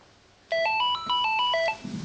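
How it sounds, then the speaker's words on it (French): A telephone rings with a melodic electronic ringtone, a short pattern of bright, stepping tones lasting over a second, close and clear with nothing else over it. "Le téléphone sonne."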